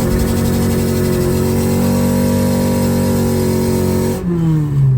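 Stock Honda K24-engined race car at night on a drag track, engine roaring loud and close at sustained high revs, then the pitch drops sharply as it lifts off near the end.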